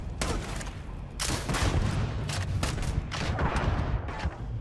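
A grenade goes off in the Starfield video game amid a busy firefight. Repeated close, loud blasts and dense gunfire bursts crowd the short stretch with little pause.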